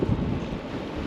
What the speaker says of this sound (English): I hope you don't hear any of that wind.